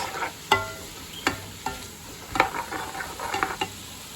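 Chopped garlic and softened onions fry in a pan with a soft continuous sizzle, broken by several sharp clacks of a spoon stirring against the pan at an uneven pace.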